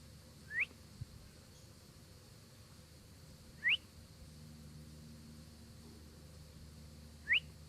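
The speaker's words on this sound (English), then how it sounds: "I tried to whistle at him." Three short rising whistles aimed at a whitetail deer while hunting, spaced a few seconds apart, stand out over a quiet background hum.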